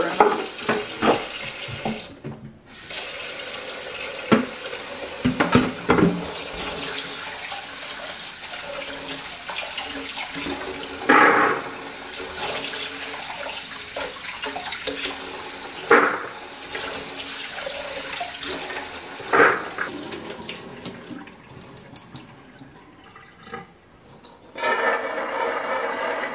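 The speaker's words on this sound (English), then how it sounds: "And then I run water in it." Tap water runs hard into a canning pot, a continuous rushing, splashing stream that lasts throughout with occasional louder surges and clanks, near and loud, with no talking.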